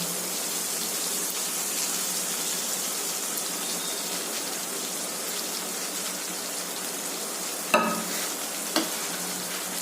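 Chilli paneer stirred in a pan after soy, chilli and tomato sauces are poured in, giving a dense rain-like sizzle that runs steadily, broken by two sharp knocks of the utensil near the end, with no speech.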